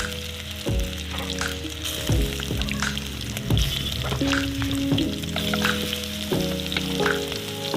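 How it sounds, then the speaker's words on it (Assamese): Chicken pieces dropping into hot mustard oil in a kadai, bursting into loud sizzling with repeated thuds and stirring as more meat is added, frying steadily close up. "এতিয়া আমি ইয়াত মাংস দি দিম।"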